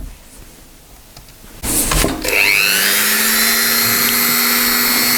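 A power drill bores a hole in the handle of a Victorinox Venture Pro knife, starting after a short quiet stretch with a clunk, then spinning up to a loud, steady whine near at hand.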